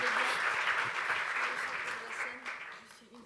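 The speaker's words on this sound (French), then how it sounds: "On peut encore applaudir très fort Arfanglab" Applause rings out at the 2024 TOP250 Innovation prize ceremony for the winners, a full clapping crowd that slowly thins toward the end, with voices faintly mixed beneath.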